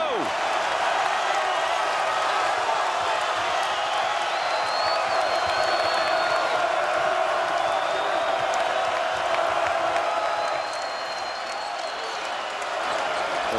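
A packed arena crowd at a North Carolina vs. Notre Dame men's college basketball game roars and cheers continuously through a Notre Dame scoring run, loud and sustained, easing slightly near the end.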